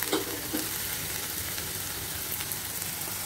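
Fried paneer cubes are stirred in a sizzling pan, with constant close frying crackle and a few scraping spatula strokes.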